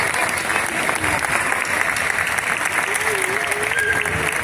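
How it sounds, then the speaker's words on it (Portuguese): Festival crowd applauding the festa committee at an outdoor Portuguese religious feast, a steady dense wash of many hands clapping throughout, with a faint voice over it. "Palmas para eles que estão ali."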